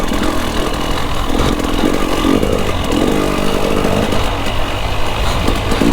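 A dirt bike engine fitted with welded raptor pegs runs loud and close while being ridden, a buzzy, rasping drone that wavers steadily with no pauses.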